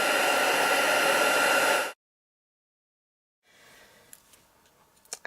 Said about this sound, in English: use your heat tool and the wax will melt over it